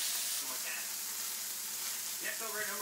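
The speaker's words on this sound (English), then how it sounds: "We'll cook this out until the bacon is crispy and the onions have turned soft as well." Bacon and onions fry in a pan with a quiet, even sizzle and a few light stirring sounds, faint voice-like tones drifting briefly beneath it.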